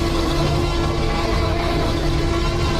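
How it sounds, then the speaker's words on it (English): A loud, sustained, rumbling Hollywood movie T-Rex roar, dense and distorted with a steady tonal growl, fills the whole short stretch without any talking. "You probably recognize that iconic roar from the movies,"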